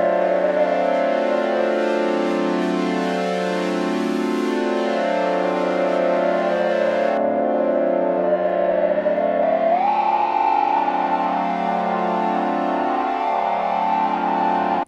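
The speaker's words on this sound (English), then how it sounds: "when I increase the saturation beyond a certain point, that the resonance will become rather indistinct" A sustained, buzzy Access Virus TI synthesizer tone with a resonant filter peak that shifts and grows gritty and distorted as saturation increases, droning continuously without pause.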